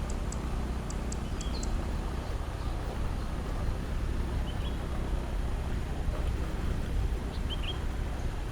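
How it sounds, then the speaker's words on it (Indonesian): Strong wind blows steadily across open village land at Jorong Tigo in Lubuk Sikaping, Pasaman, with a constant broad rush of flowing water beneath it and a few faint bird chirps in the distance. "saya disambut oleh angin yang bertiup kencang dengan aliran-aliran air yang"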